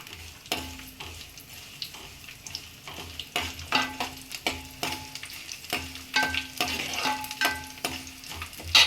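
Crushed garlic frying in hot oil with telaga pindi, a steady sizzle with repeated stirring scrapes and clicks from a spoon in the pan, close and moderately loud, no voices.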